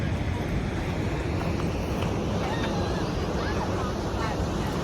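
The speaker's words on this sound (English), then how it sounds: "just the waves." Ocean waves wash steadily on a sunny day, a broad continuous surf hiss mixed with wind rumbling across the microphone, with no clear individual breakers standing out.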